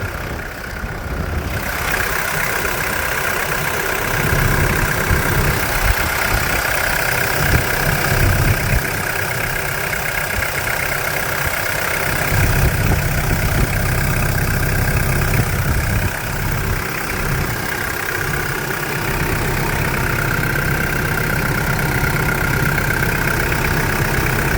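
A 1996 Mitsubishi Delica L400 4x4 with a 2.8 turbo diesel engine idling, a steady loud mechanical rumble with diesel clatter held close throughout.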